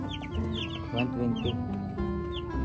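Live broiler chickens cluck and chirp in short bursts, close and moderately loud over a steady low hum, while someone speaks briefly.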